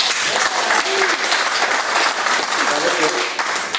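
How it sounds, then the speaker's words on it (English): An audience claps steadily at an event, dense and loud applause filling the room throughout with no break. "So let's clap. Who liked the first one?"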